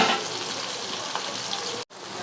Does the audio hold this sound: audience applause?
no